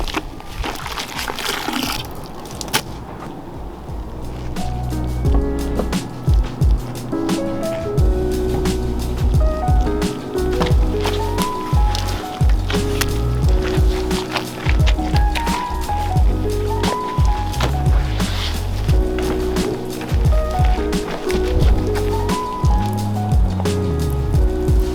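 A car hand washed with foamy suds and a wash mitt, giving continuous wet squishing and sloshing with irregular splashes up close, loud and steady throughout with no talking.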